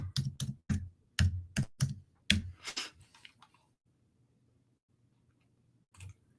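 Keyboard typing and mouse clicks at a computer while setting up a livestream: a quick burst of close, sharp keystrokes, then near silence with a faint low hum and one last click.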